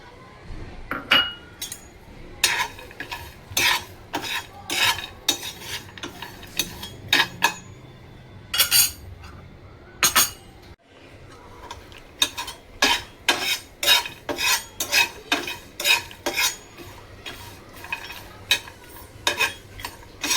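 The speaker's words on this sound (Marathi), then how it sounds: "आता आपण हे खरपूस भाजून घेऊया मंद आचेवर।" Sesame seeds and onion dry-roasting on low heat in a pan for a spicy eggplant-potato curry masala, with repeated sharp clinks and scrapes of a spoon stirring against the metal over a faint background hum.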